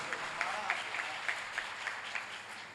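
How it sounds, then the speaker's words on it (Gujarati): Audience at a Bhagavat Katha gathering in Ahmedabad claps in a steady round of applause, many hands beating together at moderate distance, continuous for the whole short stretch. "એક વખત આ કમિટીને જોરદાર તાળીઓના ગડગડાટથી વધાવો"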